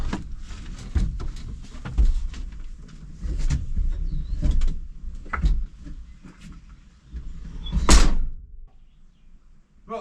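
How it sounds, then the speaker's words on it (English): The door of a newly built firewood shed swings open and shut, with creaks, knocks and rattles spread across the span and a sharp bang near the end, heard up close without talking. "at least the door works"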